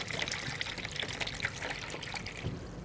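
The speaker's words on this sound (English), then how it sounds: "we're going to add some water to this" Water poured from a gallon jug into a container, about a quarter gallon, making a steady, close trickle with no talking.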